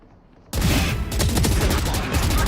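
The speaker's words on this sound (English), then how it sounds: "My ult placing swarm grenade." A swarm grenade ultimate going off in the Valorant video game, opening with a sudden loud blast after a quiet moment, then a dense rattling barrage of rapid explosive bursts that keeps going.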